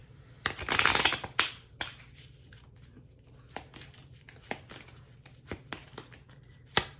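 A brief riffle of cards being shuffled, a quick papery flutter, followed by scattered soft taps and snaps of cards being handled nearby.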